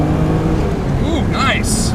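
A Nissan Skyline R32 GTR on snow tires is floored from about 4,000 RPM, its engine roaring loudly up close from inside the car, with rising tones and brief chirps near the end.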